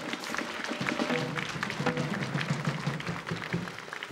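A studio audience at a televised Russian Lotto draw applauds in a moderate, sustained patter of clapping, heard alongside music and background sound, without speech over it.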